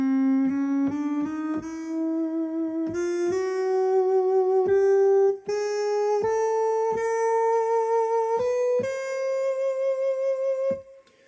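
Yamaha Genos 2 keyboard playing a rising run of single notes, some keys edited out of tune, each note struck separately in a steady sequence, close and clear with no talk.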